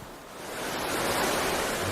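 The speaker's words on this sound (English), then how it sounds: "The gushing waterfall further upstream seems insurmountable." Water gushing steadily down a waterfall on a salmon river, a broad continuous rushing roar that swells slightly louder after the first moments and stays alone without voices.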